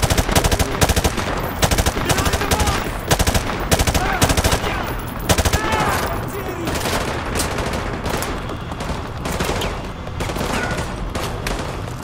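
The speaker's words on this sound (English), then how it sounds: "Who else is shooting?" Sustained automatic gunfire from the Call of Duty: Modern Warfare 2 Remastered No Russian mission rattles in dense, rapid bursts throughout, loud and close, with overlapping shots and a few faint voices underneath.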